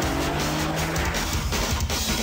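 A race car driven hard on a track, engine note dropping through a downshift as the tyres squeal and skid while the rear end slides around; loud and close, continuous, with no talking.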